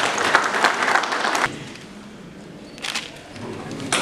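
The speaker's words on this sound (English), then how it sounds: "A round of applause as you" Audience applause at a reinsurance and cybersecurity event, a dense burst of clapping that stops abruptly, then a quieter room with a brief second flurry of claps.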